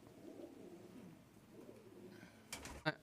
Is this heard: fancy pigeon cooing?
yes